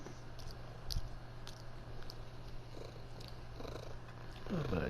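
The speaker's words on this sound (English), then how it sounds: "You hear my cat?" A cat purrs close to a microphone, rubbing its face against it, giving a soft steady low rumble with brief rustling bumps, quiet under faint background sound.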